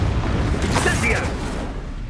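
A fire spell, Incendio, cast in the video game Hogwarts Legacy, giving a loud, continuous whooshing roar of flame with a brighter burst about midway through, filling the whole short moment.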